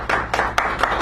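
A brief patter of clapping from a small audience thanking a poet at a cafe poetry reading, several bursts of hands within about a second, close and moderately loud.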